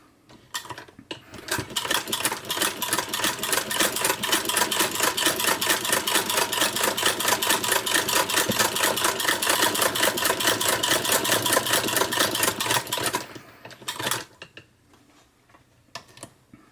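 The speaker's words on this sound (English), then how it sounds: "So we'll go ahead and start the buttonhole there." A sewing machine stitches a buttonhole using a Greist rotary buttonholer attachment. It starts up after a few light knocks, then runs at a steady, loud, rapid mechanical chatter for about twelve seconds before stopping, followed by faint handling clicks.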